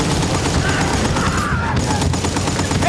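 Rapid automatic gunfire in Battlefield Bad Company 2, dense overlapping bursts of rifle and machine-gun shots crackling loudly and continuously through a chaotic firefight.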